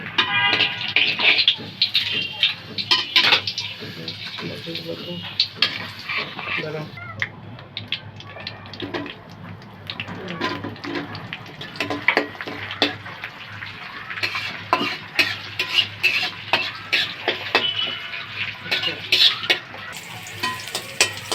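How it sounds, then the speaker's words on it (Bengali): Onion fries in soybean oil with cumin and dried chilli, a steady close sizzle with frequent stirring scrapes, and a cat meows intermittently in the background. "এখানে আমি সয়াবিন তেলের ভিতরে জিরা শুকনো মরিচটা আগে ফোড়ন দিয়ে পরে পেঁয়াজটা ভাজা নিলাম।"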